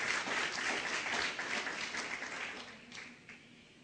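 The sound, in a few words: congregation applause in church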